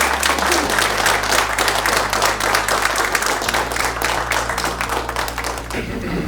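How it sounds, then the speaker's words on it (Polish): Audience applause for the speakers at the R&D Poland 2024 conference, a dense, steady crowd clapping that carries on throughout, with a low steady hum underneath and a few voices mixed in. "wielkie brawa dla prelegentów, którzy się przygotowali"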